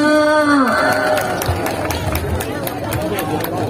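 A crowd at an Indonesian Independence Day village carnival claps and cheers in a dense burst of applause right after a voice speaks, continuing steadily with lively rhythmic clapping.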